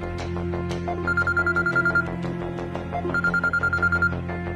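A telephone rings in two bursts of rapid trilling electronic rings separated by a short pause, fairly loud and clear over faint background sound indoors, without talk.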